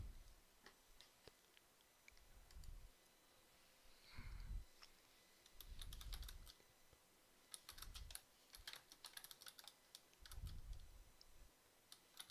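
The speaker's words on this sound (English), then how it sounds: "Let me just type in a response real quick." A computer keyboard clacks in quick irregular bursts of light key taps, near and fairly quiet, with low thumps in between.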